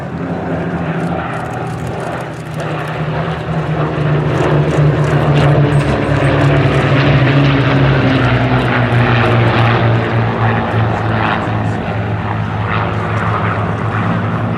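A Curtiss P-36 Hawk 75 flies at the Flying Legends airshow at Duxford, its propeller engine droning loud and close, swelling and shifting in pitch as it passes.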